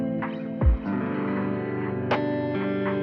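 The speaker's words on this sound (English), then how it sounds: "Also a great sounding pedal, has a long pre-delay on it." A guitar played through a pad reverb pedal with a long pre-delay: a low plucked note blooms into a sustained, smooth wash, with a couple of lighter picked notes trailing into the lingering tail.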